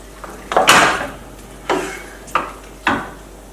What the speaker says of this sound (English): just add your tin of chopped tomatoes.